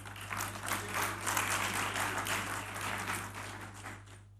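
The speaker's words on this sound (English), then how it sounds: "Ladies and gentlemen, one more time, a round of applause." An audience at a business summit in Ghana applauds in a steady wash of clapping that holds for several seconds and then fades, with a constant low hum beneath it.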